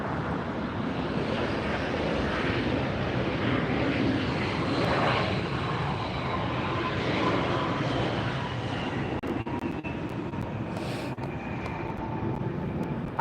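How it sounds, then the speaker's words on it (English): An Alaska Airlines jet arriving at LAX airport produces a steady, loud engine roar that fills the whole stretch, with a whine that sweeps gradually downward near the end. "let me catch this Alaska flight arriving"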